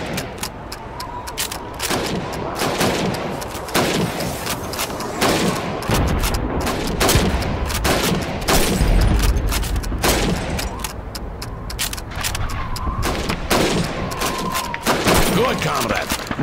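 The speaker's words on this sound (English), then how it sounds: "You have 15 seconds to shoot the helmets." Rapid rifle shots ring out in Call of Duty 2 as helmets are fired at on a timed shooting range, a dense run of sharp cracks and impacts over a steady bed of game noise.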